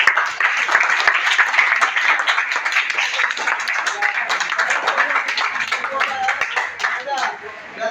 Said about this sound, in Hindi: पूजा मैडम के लिए एक ताली